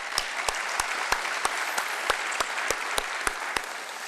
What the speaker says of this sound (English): Would you please stand up and receive a round of applause?